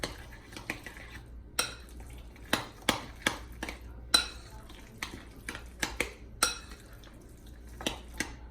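A spoon stirs guacamole ingredients in a bowl, giving a run of sharp clinks and scrapes at an irregular pace, close and fairly quiet, with no voices.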